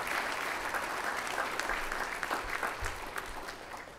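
A crowd at a football ring of honor ceremony gives a sustained round of applause, steady dense clapping from a large audience that slowly fades over a few seconds, with a few low thumps underneath.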